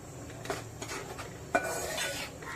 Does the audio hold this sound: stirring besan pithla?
yes